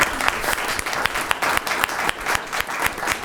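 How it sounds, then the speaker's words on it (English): A room of attendees at a Port of Seattle Commission meeting claps for a commissioner, a brisk burst of applause with sharp individual claps standing out, fairly close and lively throughout. "Get a round of applause for Commissioner Cho."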